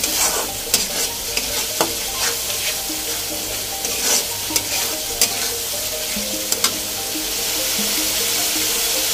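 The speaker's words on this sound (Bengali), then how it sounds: "মশলাটা ভালোভাবে কষাতে হবে।" Masala being stirred and fried in a pan for a rohu fish roe curry, a steady close sizzle with frequent scraping and clicking of the spoon against the pan, continuous and fairly loud with no talking.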